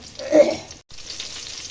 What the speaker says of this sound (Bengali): রান্নাটা পেঁয়াজ মরিচ লাল করতে দিয়েছি লাল হলেই সবজিটা দিয়ে দেব